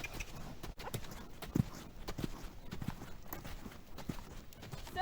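Horse cantering, its hoofbeats coming as soft, fairly faint thuds in an uneven rhythm, with one sharper hit, over a steady background of noise.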